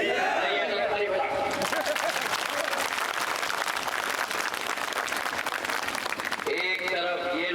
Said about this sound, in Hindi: सही है तो ताली बजाओ।